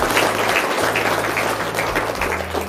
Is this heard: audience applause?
yes